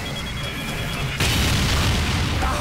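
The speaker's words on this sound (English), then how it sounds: "Dispenser down!" Dispenser destroyed in Team Fortress 2, a sudden loud boom that cuts in partway through over dense game noise and gunfire, then a sustained rumbling roar.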